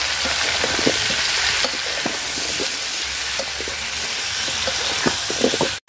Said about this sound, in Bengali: তো আমি কপিটা এখন সুন্দর করে ভাজা নিব লবণ আর হলুদের সাথে।